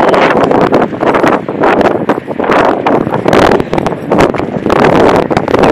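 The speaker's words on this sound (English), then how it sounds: "the wind is getting blustery again" Blustery wind buffets the microphone in loud, uneven gusts, rising and falling in repeated surges across the whole stretch.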